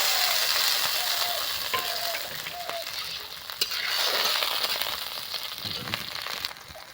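Ginger frying in a pan as water is added for a fish curry: a steady bright sizzle with stirring scrapes, then a louder hissing burst as the water hits the hot oil, continuing without talk.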